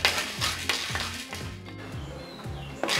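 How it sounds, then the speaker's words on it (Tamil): Chana dal dry-roasts in a pan while a utensil stirs it. Rhythmic scraping strokes repeat about every half second over a soft, crackling rustle of lentils, fairly close and moderately quiet, with no talking. "இப்போ வந்து கடலைப்பருப்பும் வறுபட்டுருச்சு"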